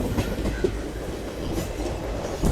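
An SF Express train from Mysuru to Renigunta runs along the track near Katpadi Junction, with a steady rumbling roll and rhythmic wheel clicks heard from on board, no talk.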